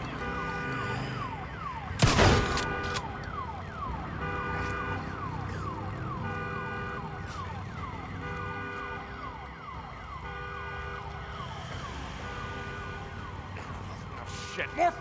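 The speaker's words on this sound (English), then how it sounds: "Alarm." An alarm siren wails in the Days Gone video game, rising and falling in a repeating cycle at steady volume, with a sharp loud bang near the start and a few brief knocks near the end.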